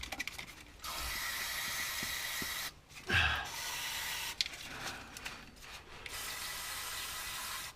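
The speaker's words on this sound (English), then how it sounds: "get some contact cleaner in there" Contact cleaner sprayed from an aerosol can onto an electrical connector in the rear air suspension of a Citroen C4 Grand Picasso, several close hissing bursts of varying length separated by short pauses and small mechanical clicks.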